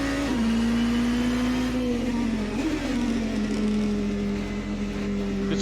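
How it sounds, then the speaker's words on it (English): LM Hypercar A480 engine in Assetto Corsa, a loud continuous drone holding a steady pitch that dips slightly and settles lower, smooth and close with no talking. "Good sound of the engine."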